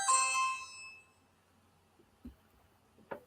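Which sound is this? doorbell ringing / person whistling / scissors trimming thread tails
doorbell ringing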